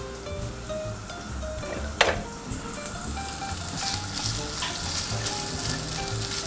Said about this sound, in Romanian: Deci, vedeți, sfârâie deja, e bun.